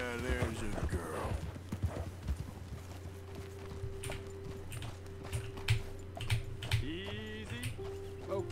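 Horse hooves clop at a slow, irregular pace in Red Dead Redemption II, quiet and close under a steady low hum, with occasional brief voices and tonal game sounds.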